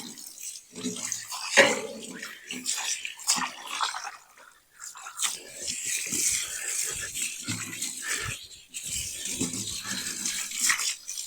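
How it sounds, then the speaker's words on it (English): Garden hose spraying water over an outdoor AC unit's coil fins, an uneven hiss and splatter rising and falling as the stream moves, fairly close, with no talking. "So the open hose rinsing is the way to go."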